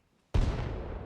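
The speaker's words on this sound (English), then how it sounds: "you can hear there's the round going off" A single sharp, booming video game mortar launch blast erupts after brief silence, then a dense rumbling decay lingers, loud and close.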